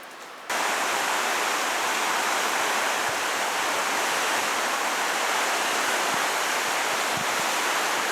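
Cold river current rushing through the Gunnison Black Canyon, a steady loud broadband roar of churning water that begins abruptly and continues unbroken and close throughout.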